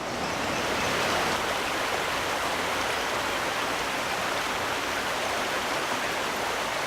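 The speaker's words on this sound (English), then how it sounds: "This is the water of Leith in Edinburgh," The Water of Leith river in Edinburgh, Scotland, flows with a steady, loud, unbroken rush of water, filling the scene evenly from start to finish with no voices.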